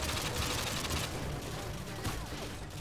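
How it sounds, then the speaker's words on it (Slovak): Enemy gunfire in Call of Duty Modern Warfare 2 crackles in a dense, rapid stream of shots, steady and fairly loud from start to finish. "Odkiaľ ma strieľajú?"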